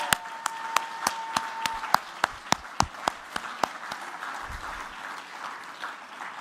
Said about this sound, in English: let's get another round of applause for Congressman Raskin.